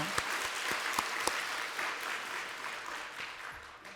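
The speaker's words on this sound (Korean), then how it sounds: "우리 격려와 축복의 박수 한번 할까요?" Applause from a church congregation at a Wednesday service, steady clapping with a few sharper claps standing out, fading slightly toward the end.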